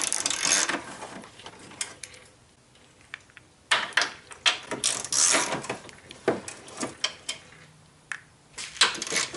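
Ratchet clicks and metallic clatter from unbolting a plate in the engine bay of a 2002 Toyota Camry during a radiator replacement, coming in irregular close bursts with quieter gaps between.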